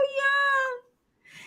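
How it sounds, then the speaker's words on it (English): A cat gives one clear, drawn-out meow close by, followed after a short pause by a faint, breathy rustle or second sound. "she over there got to find her cat"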